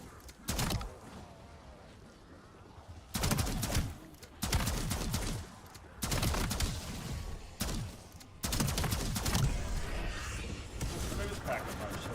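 Shotgun fire in Black Ops 7 zombies-style Rogue mode: several loud bursts of gunfire recur over a quieter game background, with a voice talking in between.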